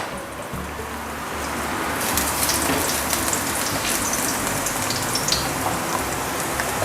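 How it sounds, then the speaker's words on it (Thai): Steady crackling sizzle of garlic frying in hot oil, dense and fairly loud, swelling slightly after the first couple of seconds, with no talking. "พอน้ำมันเริ่มร้อนนะครับใส่กระเทียมลงไปนะครับ"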